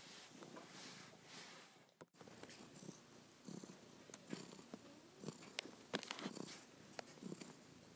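A cat purrs softly and continuously up close, a low rhythmic rumble with a brief break partway through.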